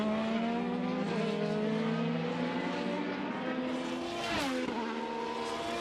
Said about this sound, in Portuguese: Pneus macios, pilotos aquecendo os motores, aquecendo os carros.